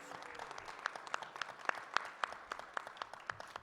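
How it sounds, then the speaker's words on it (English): A small audience at a community political forum gives a round of applause for volunteers: quiet, distinctly separate claps in a loose, uneven rhythm, heard from some distance. "let's give them a big round of applause"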